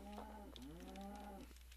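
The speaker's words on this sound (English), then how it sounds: "There's three cows in there." Cows mooing in Minecraft, one long drawn-out low moo with a shorter call before it, close and clear with no talk.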